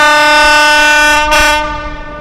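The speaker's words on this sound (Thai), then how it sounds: "รถไฟมาแล้วนะครับ" A train rumbles loudly nearby with a strong sustained horn-like tone, a brief burst of noise midway, then the sound starts to fade, on the Death Railway at Tham Krasae, Kanchanaburi, Thailand.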